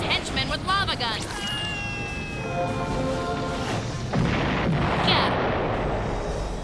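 Lava guns fired by Lord Moltar's henchmen in a H.E.R.O. video game commercial, with a whooshing launch, a descending whistle and a rumbling, crashing blast under a busy backdrop.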